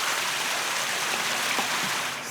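Continuous rushing water, a broad steady hiss like a flowing stream with faint splashing textures, unbroken from start to finish.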